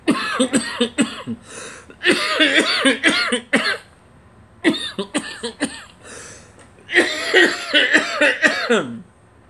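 Repeated bursts of harsh coughing from someone who has just smoked marijuana, coming in several tight clusters of rapid hacks with short gaps between, close and loud, with some throat clearing mixed in.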